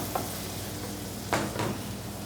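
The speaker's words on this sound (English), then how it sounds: "we're gonna add our peaches to that. Give it a quick stir" Peaches caramelizing in butter in a pan, a steady close sizzle with a couple of short stirring scrapes, no voices.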